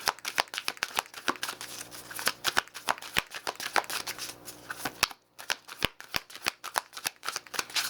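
Oracle cards are shuffled by hand in a long run of quick, crisp riffling slaps with short pauses between the bursts, close and fairly quiet, with no talking over them.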